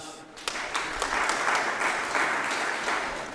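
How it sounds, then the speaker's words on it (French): Applause at a general assembly of professional plasterers in Côte d'Ivoire, a crowd clapping steadily and fairly loudly for a few seconds, with no voices over it. "Et ça encore, c'est à applaudir."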